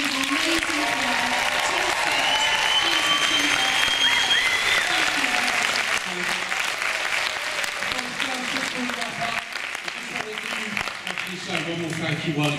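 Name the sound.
audience applause at a vegan activists panel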